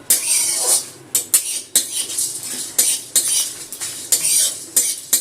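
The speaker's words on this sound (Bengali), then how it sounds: "ধোঁয়া হচ্ছে আর চরমর করে আওয়াজ হচ্ছে।" Whole spices, including cumin, coriander and fennel, dry-roast in a hot pan as a utensil scrapes and stirs in quick, irregular strokes, each pass bringing a close, bright metallic scrape with crackling underneath; nobody talks.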